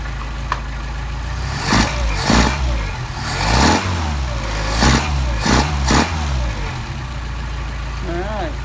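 Mercedes 190SL engine with Solex carburetors idling, a steady low rumble close by, broken by several short throttle blips and revs.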